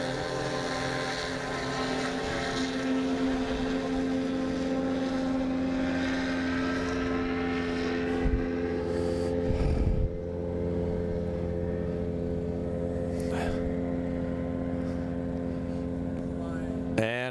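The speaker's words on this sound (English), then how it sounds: "You'll see the right wing dip as the motor spins up." The motors of a long endurance VTOL drone spin up in a field test, a sustained propeller whine with steady tonal hum that rises as it lifts off, with brief thumps and a voice speaking over it.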